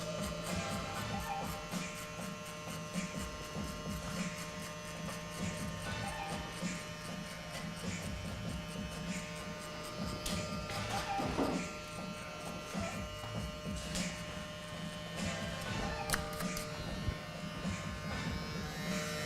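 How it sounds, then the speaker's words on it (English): Electric hair clippers buzz continuously at a barbershop while fading a customer's hair, a close, steady motor drone with small shifts as the blade moves through the hair. "I'm gonna move to one side of the head here and repeat the same steps with my clipper open"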